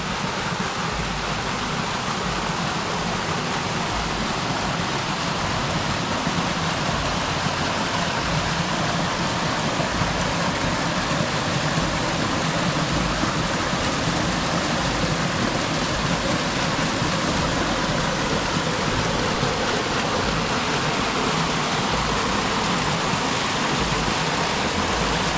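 Waterfall cascading into a lake during a May kayak outing on Lac de Coiselet, a steady broadband roar of falling water that stays loud and constant throughout, with no voices.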